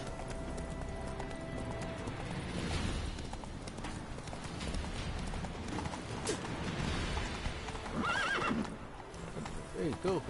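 Roach, the horse in the video game Witcher 3: Wild Hunt, whinnies and gallops with a rhythmic clip-clop of hooves and sharp neighs near the end. A voice talks over the steady hoofbeats.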